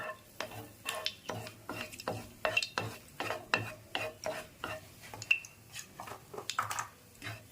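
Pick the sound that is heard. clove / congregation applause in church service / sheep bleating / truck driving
clove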